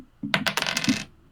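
Dice are rolled for a tabletop role-playing game, clattering across a hard surface in a quick burst of rattling impacts that settle within a second, with no talk over them.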